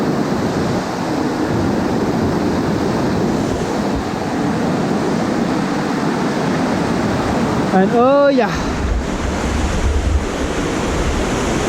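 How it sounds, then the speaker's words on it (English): Steady broadband rushing of a waterfall and river near Mürren, Switzerland, fills the whole recording, loud and close, with someone speaking briefly over it. "That's the waterfall."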